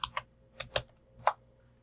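Keys on a computer keyboard are tapped in a brief, irregular run of about five close, crisp clicks with short pauses between them, alone in a quiet room.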